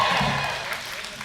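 Brief burst of cheering and applause from a crowd of parents and families at a Steinhatchee School back-to-school gathering, loud and continuous for about a second.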